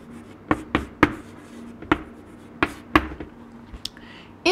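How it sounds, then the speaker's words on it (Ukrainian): Chalk or pen tapping and scratching as a math answer is written out on a board, a series of short sharp knocks at irregular intervals against a faint steady hum. "І запишемо відповідь у верхній рядок."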